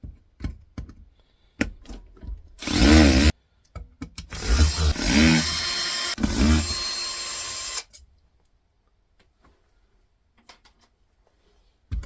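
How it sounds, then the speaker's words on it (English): Screws being backed out of the base of a Vortex Genie 2 laboratory sample mixer with a powered driver, two loud whirring bursts plus a few sharp clicks and taps, near and with no talking. "Okay, so first things first is we'll get out the bottom screws."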